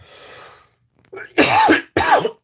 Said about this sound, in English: It's just I do tend to cough in here.